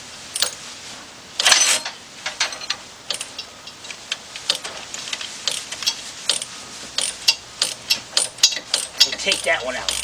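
Socket wrench ratcheting on a bolt while working on the suspension of a 2005 Chevy Trailblazer, with control arm and ball joint work: a run of short, crisp clicks in uneven bursts, close by, over faint background noise.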